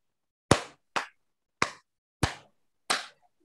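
Five sharp, separate hand claps from a children's clapping game at a church kids' service, evenly spaced about half a second apart, crisp and close with silence between them.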